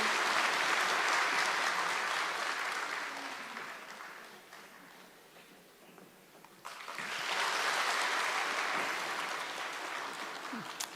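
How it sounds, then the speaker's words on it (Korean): Sunday-service congregation applauding to bless a baby, a broad sustained crowd of clapping that dips midway and then swells again, continuing to the end. "우리 박수로 이 아기를 축복합니다"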